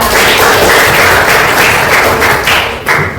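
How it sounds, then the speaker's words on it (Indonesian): Students in a classroom give a loud, steady round of applause, dense clapping running throughout with a few sharper thumps near the end. "Tepuk tangan untuk kalian semua."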